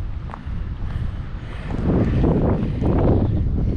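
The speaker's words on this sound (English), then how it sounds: "You probably hear the wind." Wind gusts around a Forest River Wildwood Heritage Glen 312QBUD bunkhouse travel trailer with its awning extended, a steady low rumble buffeting the microphone and swelling louder midway through, with no talking.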